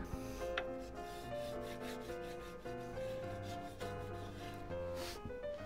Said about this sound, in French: sur la plaque, je vais mettre de paraffine en fait